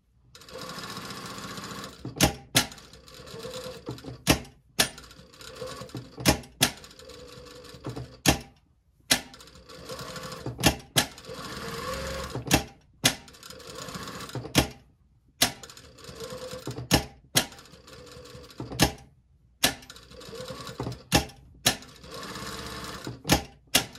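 Sewing machine running a basting stitch around the edge of a pocket for a bluff pocket, in repeated stitching bursts broken by sharp clacks and short pauses, close and fairly loud with no talking.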